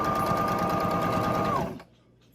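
A sewing machine winds a bobbin with a fast, even whirring drone and a steady high whine, then spins down and stops near the end, leaving only quiet room noise.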